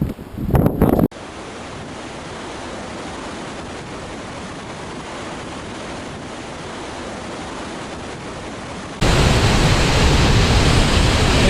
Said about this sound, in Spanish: el río está creciendo a toda hostia